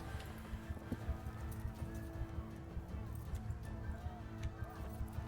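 Horse hooves clip-clop steadily in a video game, a quiet repeated rhythmic tapping under a low background hum, with a sharper knock at the end.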